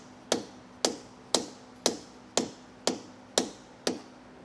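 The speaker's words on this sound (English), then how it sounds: "you want to just very gently tap around and rotate it so we get it all nice and flat here against our brake rotor" A disc brake rotor from a trailer brake kit is gently tapped into place, giving eight evenly spaced, sharp metallic taps about half a second apart, close and clear with nothing else heard.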